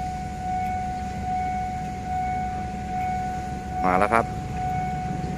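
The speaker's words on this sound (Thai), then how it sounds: "มีเสียงวีดดังมาไกลๆนะครับ" Old steam locomotive 4045 sounds its whistle in the distance, a brief warbling blast near the end over a steady background hum with a faint voice.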